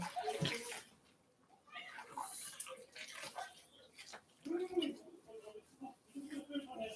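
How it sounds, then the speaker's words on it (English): Water pours briefly into a pot of chili with canned pinto beans on a home kitchen stove, a short splashing trickle close by, with voices talking over it. "A little bit of water."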